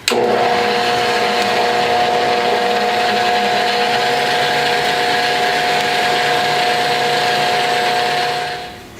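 Electric hand mixer beating two eggs for fudgy brownie batter, a loud steady motor whine with a constant pitch running without a break for about nine seconds and then winding down at the end.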